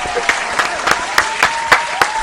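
Applause in a radio studio, made of a handful of loud, evenly spaced claps in a steady rhythm, close to the microphone and sharp against a light background.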